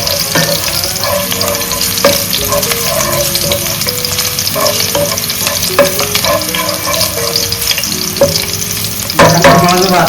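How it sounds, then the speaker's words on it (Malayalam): Green chillies fry in a pan with a steady, close sizzle throughout, spiked by stirring scrapes, with a louder burst of crackling near the end. "പച്ചമുളക് വറുത്ത് തന്നു."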